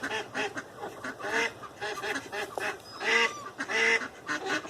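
Several ducks quack loudly and repeatedly nearby in a backyard flock kept with chickens, their calls overlapping in a busy, continuous chorus.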